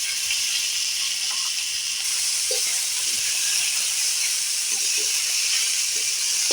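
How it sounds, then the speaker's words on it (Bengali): Continuous hissing sizzle of chopped onions and tomatoes frying in hot oil, even and unbroken, with a few faint utensil taps. "পেঁয়াজটা লাল লাল করে ভালো করে আমি ভেজে নেবো"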